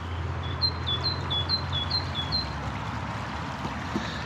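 A bird sings a quick series of high, repeated chirping notes over a steady background rush of flowing water, then falls quiet, at the Rea Brook Valley Nature Reserve in Shrewsbury.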